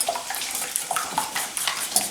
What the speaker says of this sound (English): I'm also whipping a lot of air into these eggs